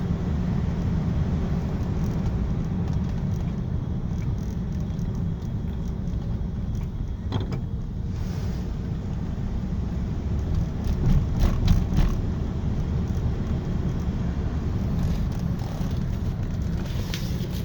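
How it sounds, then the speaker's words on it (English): An older car's engine idles steadily, a low, even rumble that holds at the same level for the whole stretch with no talking. "Engine runs good, the transmission shifts smooth."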